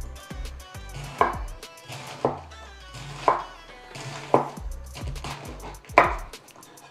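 A knife chops through cabbage on a board in a slow, regular rhythm, each crisp cut landing with a firm thud about once a second, close and clear with no talking, over soft background music.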